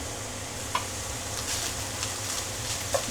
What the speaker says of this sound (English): Start breaking up your ground beef, move it around the pan, cook it down, and scrape all the brown bits off the bottom.